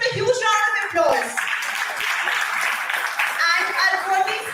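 A conference audience at a dental sciences gathering breaks into steady applause, many hands clapping in a continuous wash while a voice speaks over it.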